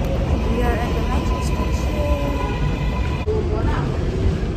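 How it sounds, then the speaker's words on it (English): Metro station ambience with a train's steady rumbling roar throughout, close and loud, underneath a few brief voices. "We are at the metro"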